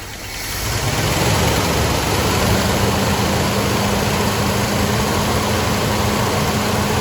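A 1961 Cadillac Sedan DeVille engine, started after sitting for 30 years, settles into a steady, loud idle. It runs alone without a break, a low rumble with a constant drone.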